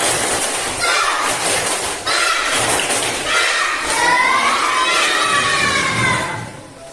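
Schoolchildren in an Indonesian classroom doing a rhythmic spirit clapping chant, loud and close, with bursts of claps and shouted voices filling the room throughout.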